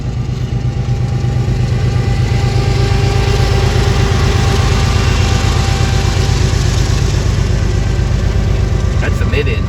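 A train's locomotive engine idles close by, a loud steady low diesel throb with a mechanical hum that continues throughout without voices.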